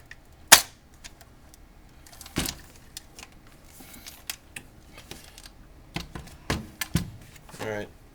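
Parts of a JG BAR 10 airsoft rifle click and snap into place during assembly, with a few sharp close clicks and snaps among softer handling taps and rattles.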